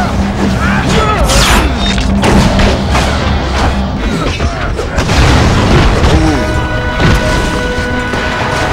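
Heavy booming slams, crashes and thuds from Marvel Nemesis fighting-game combat pile up continuously at high volume, dense and chaotic, with players' voices mixed in.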